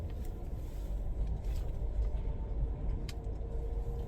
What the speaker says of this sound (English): so you'll have a drive shaft noise, and this is like drive shaft speed related noise